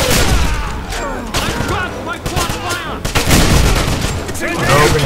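Rapid quad fire weapon bursts from a Wolfenstein shooter game, with dense, loud gunfire and booms running throughout, overlapped by excited talking from a player.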